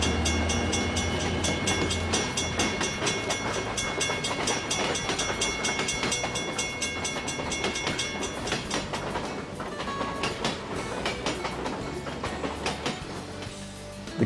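A model container train pulling out of a Seattle station on a model railroad, a continuous rolling rumble with rhythmic clicking of wheels over rail joints, fairly close and steady throughout with no talking.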